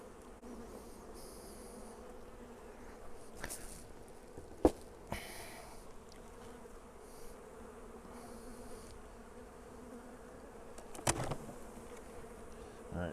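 Honeybees buzz around opened hive boxes whose supers hold brood, with hive beetles present; a soft, continuous hum sits under a few sharp knocks and clicks from handling the wooden frames.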